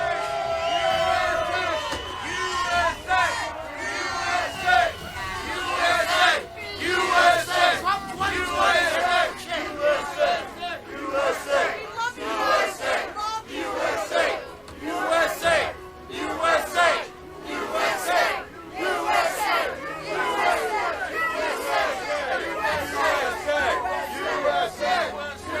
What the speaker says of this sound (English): this crowd is absolutely riled up and excited to be here